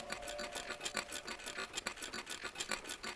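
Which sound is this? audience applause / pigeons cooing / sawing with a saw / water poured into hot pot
sawing with a saw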